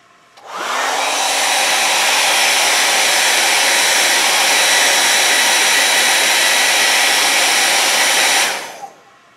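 A hair dryer heating a bike frame protector switches on, blows in a loud, steady rushing whir for about eight seconds, then cuts off.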